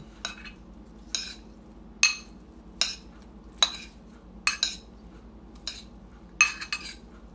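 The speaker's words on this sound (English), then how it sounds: "I have a bunch of spoons that I grabbed here. Just going to stir it up a little bit." Metal spoons clink against a bowl while stirring a pickling mixture, about eight or nine sharp, spaced clinks over a quiet background with no talking.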